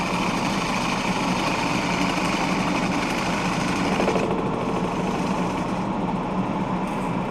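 Wood lathe running in reverse while turning a chip and dip platter, a steady, loud, close motor drone with a dense whirring texture that stays constant throughout.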